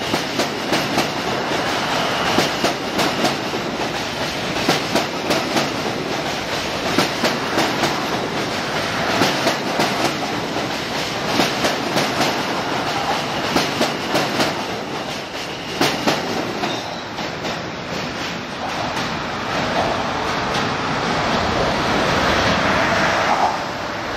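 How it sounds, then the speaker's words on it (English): A Queensbound M subway train crossing the Williamsburg Bridge rumbles steadily past with rhythmic clattering wheels and metallic rattles, loud and close throughout, with a rushing roar building toward the end. "Queensbound M train."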